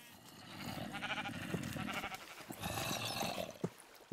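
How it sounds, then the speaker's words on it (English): Sheep bleating in the video game Minecraft, several repeated bleats over a steady backdrop of game ambience, fairly close and moderately loud, with no talking. "Come here, sheep."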